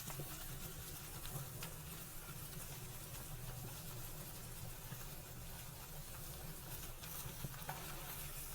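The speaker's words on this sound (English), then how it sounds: "I want to make sure you sear the sides." Steak searing on a hot soapstone surface, giving a faint, steady sizzle over a low background hum with no talk.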